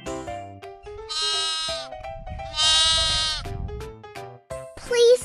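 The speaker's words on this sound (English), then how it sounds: "Lamb." Several bleats from a young lamb come in long, wavering harmonic cries, loud and close, with short pauses between them and a sharper final call.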